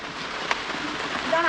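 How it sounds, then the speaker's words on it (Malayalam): Light rain falls on a forested rocky hillside in Kollam, a soft continuous hiss of drops with a brief tap near the start and a voice starting to speak at the very end. "മഴയുണ്ടല്ലേ? മഴ ഓ മഴ മഴ നല്ല മഴ, ചെറിയ മഴ"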